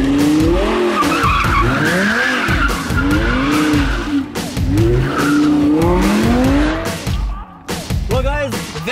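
An all-wheel-drive Lamborghini Murcielago SV spins driveway donuts, its tires squealing in long wavering howls over a roaring engine, loud and close, with voices shouting in between.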